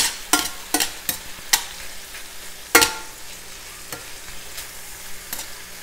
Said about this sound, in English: We'll stir this shrimp around.